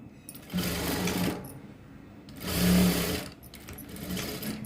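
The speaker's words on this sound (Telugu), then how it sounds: "మీకు ఈ షోల్డర్ కుట్టేటప్పుడు మీకు ఖచ్చితంగా సౌండ్ అనేది వస్తుంది" Sewing machine stitching the shoulder seam of a blouse, running in two loud bursts with a short pause between them and a quieter third run at the end, with no talk.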